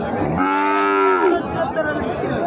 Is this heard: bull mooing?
yes